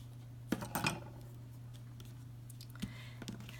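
A few faint, sharp snips of scissors trimming the ends of baker's twine, two quick cuts close together and one more a couple of seconds later, over a quiet room hum.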